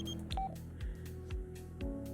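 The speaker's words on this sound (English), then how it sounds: "Oh, some phone's ringing." A phone in The Sims 4 rings in short repeated electronic bursts at an even pace, quiet and alone with no talk.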